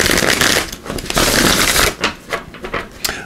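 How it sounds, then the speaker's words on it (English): Tarot of Dreams tarot cards being shuffled by hand, a loud, close and continuous riffling and flapping that breaks into several quick bursts near the end. "We're also going to use these Tarot of Dreams. I'm just giving a quick shuffle"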